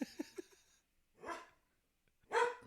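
A dog barks a few times, a quick trio of small yips followed by two fuller, louder barks spaced apart with quiet gaps between, fairly close.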